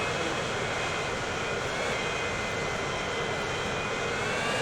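In the video game Transport Fever 2, a steady, loud airplane engine roar drones on without change, continuous and unbroken, with no voices.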